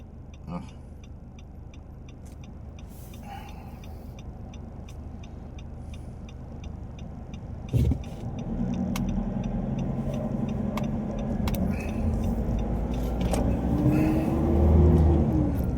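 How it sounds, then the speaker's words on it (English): Pickup truck driving along rural Thai village roads, a steady engine and road rumble throughout, with a bump near the middle and louder rattling toward the end. "So now I've just driven from the house during the course of this video to the village proper"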